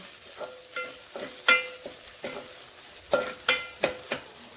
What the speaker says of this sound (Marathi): परतून झाले आलं लसूणची पेस्ट